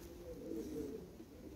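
Soft, low cooing of a racing pigeon, a short rounded burble that swells in the middle and fades, fairly close but quiet against faint background noise.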